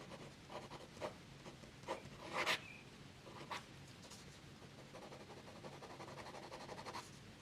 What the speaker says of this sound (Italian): Il pennino è un pennino che comunque si fa sentire sulla carta. Non gratta, ma si fa sentire, un pennino fine.